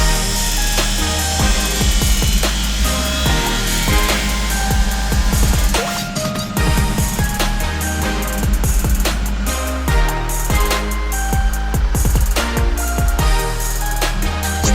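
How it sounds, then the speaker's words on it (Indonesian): A power saw cuts wood for a neon box support pole, making a continuous loud rasping whine with repeated strokes and scraping bursts, close up and with no talk. "Tahapan pertama, kita potong dulu ya."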